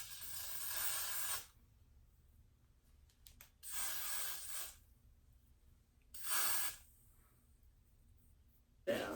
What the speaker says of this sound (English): I will be using some Got to Be Free spray. I'll be spraying it right here.